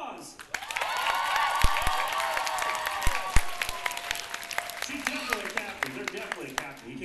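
A convention audience at a fursuit dance competition gives a round of applause, steady dense clapping with a few cheers, and a voice starts talking over the tail as the clapping fades.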